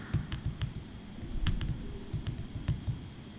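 Rapid typing on a computer keyboard while entering a table name in an Excel spreadsheet, a steady run of close, crisp key clicks with a few louder taps and no voices.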